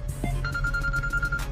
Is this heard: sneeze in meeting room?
no